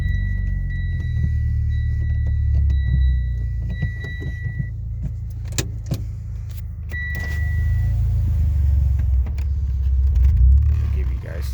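A Mitsubishi Lancer X fitted with a K&N Typhoon intake runs with a low, steady engine rumble, close by, with a few sharp clicks and brief tonal whines over the top.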